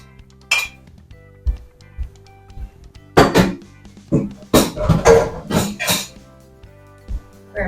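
Dishes, pots and cutlery clink and clatter in a home kitchen in irregular bursts, some sharp and bright, with a few squeaks, close by and without talk.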